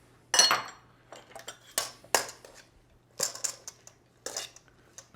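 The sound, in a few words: mixing quinoa kale salad with feta in a bowl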